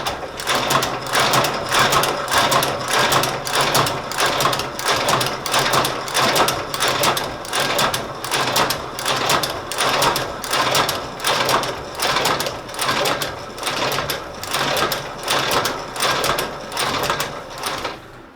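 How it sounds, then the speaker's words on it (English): A sole-stitching machine sewing the sole onto a Tod's loafer, a loud, close mechanical clatter pulsing in a fast, even rhythm for the whole stretch without pause. "what we're going to do now is stitch the sole onto the shoe"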